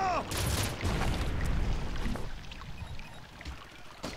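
Grenade blasts and gunfire in the Red Faction video game, a loud burst of dense booming and crackling for the first two seconds, then quieter scattered hits and rumble beneath a player's talk.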